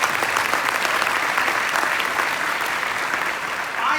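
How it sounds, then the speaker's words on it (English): A conference audience breaks into steady, full applause that carries on evenly for several seconds with no voices over it. "that's worth an applause"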